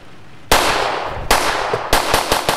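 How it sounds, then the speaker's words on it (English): Gunshots ring out during a convenience-store robbery: one loud, sharp blast followed by another and then a quick cluster of three more close reports, each with a ringing decay. "Did they just shoot somebody?"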